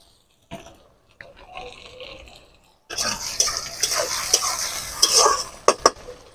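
Chopped tomato goes into frying onions in a pan: a quiet start with a few soft knocks, then a sudden loud sizzle with scraping stir strokes and sharp clinks near the end.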